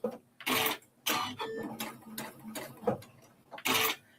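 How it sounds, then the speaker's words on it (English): A home sewing machine running under a foot pedal during a sit-and-stitch session, its needle driving in several quick mechanical bursts separated by short pauses, close and moderately loud with no talk. "my sewing machine, I have my presser foot or my pedal, as soon as I hit it, my needle drops and starts sewing"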